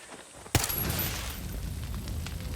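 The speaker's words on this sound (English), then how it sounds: "we're gonna do 2 tests with this gun. We're gonna fire with this gun here." A unique submachine gun fires in Far Cry 6, opening with a sharp loud report and then a sustained dense roar of gunfire and burning in a small area, with no talking.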